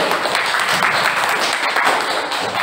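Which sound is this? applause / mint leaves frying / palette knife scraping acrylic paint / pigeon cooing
applause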